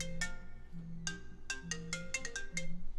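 A phone rings with a melodic ringtone: a quick run of bright, plucked notes over a low hum, repeating steadily and fairly close.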